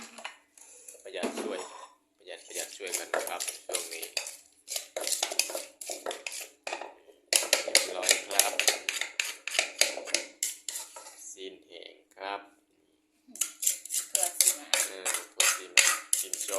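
A metal utensil stirs food in a pot, making bright, rapid scraping and clinking strokes in repeated bursts separated by brief pauses.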